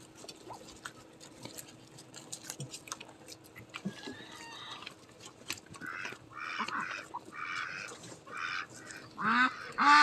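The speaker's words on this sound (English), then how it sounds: "Yeah, see, quack, quack, quack. They're talking to you guys too" Ducks quack in a farmyard on a snowy day alongside chickens, a series of nasal calls growing louder and busier toward the end, fairly close, with faint background noise and no talk.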